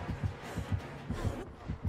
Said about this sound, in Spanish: escucho los latidos otra vez